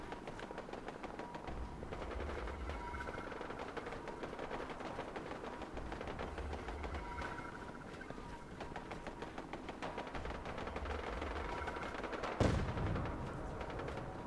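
Distant gunfire from the Fallout 4 video game crackles in quick bursts throughout, faint and busy under game ambience, with one sharper, louder crack near the end.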